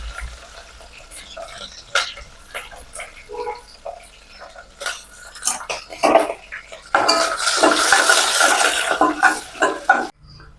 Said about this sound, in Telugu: ఇప్పుడు ఉల్లిపాయ వేసుకుందాం కరివేపాకు పచ్చిమిరపకాయ